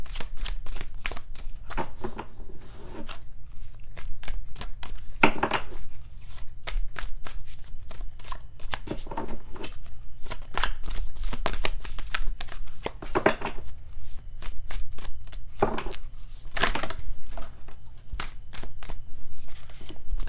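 Tarot cards being shuffled by hand in repeated quick riffling bursts with soft slaps, close and continuous for about twenty seconds, with no voice.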